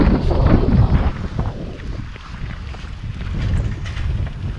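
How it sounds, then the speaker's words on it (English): Strong wind in Rohtak roars and buffets the microphone in a steady low rumble, gusting slightly louder toward the end, with no voices. "Right about here it started getting really windy"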